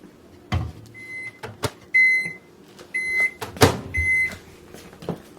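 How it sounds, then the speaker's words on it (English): A microwave oven softens keto pinwheel dough, its loud electronic beeps repeating in short bursts among door clunks and button clicks, close and sharp against a quiet kitchen background with no voices. "I'm going to pop this in the microwave for another 30 seconds to soften it"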